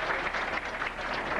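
A bowling match crowd at the 1996 Tucson Open cheers and claps. The brief burst of applause sounds somewhat distant, with no clear speech.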